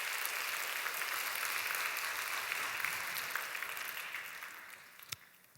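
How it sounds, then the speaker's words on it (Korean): Congregation at a Christian lecture gives a round of applause, a broad, sustained rush of many hands clapping at a distance that gradually thins and fades toward the end, with a final stray clap. "하나님께 영광의 박수 한번 올려드리도록 하겠습니다."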